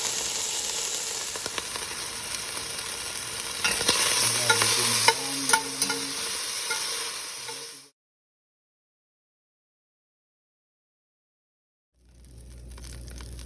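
Beef stew meat browns in a pan with a loud, steady sizzle and occasional stirring scrapes. The sound cuts to silence partway through, then the sizzle returns.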